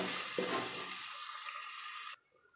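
Masoor lentils stirred into fried onions in a hot pan give a steady, close sizzle with soft scraping that cuts off abruptly near the end, leaving near silence.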